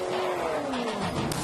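A race car engine screams above 6,000 RPM through a Borla exhaust, revving hard and loud, a continuous high-pitched roar with slowly shifting pitch.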